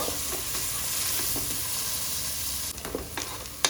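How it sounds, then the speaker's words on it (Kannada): Onions frying in oil in a pan for a mutton curry, a steady close sizzle throughout with a few soft stirring scrapes toward the end. "ಈರುಳ್ಳಿ ಎಣ್ಣೆ ಚೆನ್ನಾಗಿ ಫ್ರೈ ಆಗಬೇಕು"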